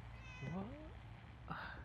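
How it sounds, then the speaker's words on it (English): A cat meows a couple of times in Fallout 4, a short rising-and-falling cry near the middle with a second brief call at the end, over a steady game ambience, with a voice briefly speaking. "And that's a cat, wherever it was."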